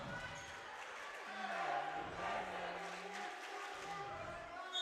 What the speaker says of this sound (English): you can hear the student section over there coming to life as well